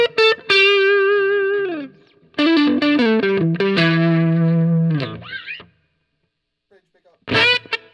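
Electric guitar through a Marshall DSLCR40 amp on its crunch channel, neck pickup, playing loud sustained distorted chords and slides in bursts with short gaps, ending in a final strummed hit.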